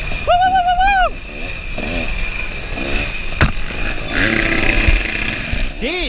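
Four-stroke dirt bike engine revved as a pass call during a harescramble race in woods: sharp rising and falling revs in quick bursts, near and loud, with another bike's passes mixed in.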